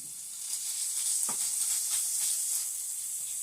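Ground turkey stew sizzling in a pan as it is stirred, a soft, even hiss that swells slightly partway through with a faint scrape or two.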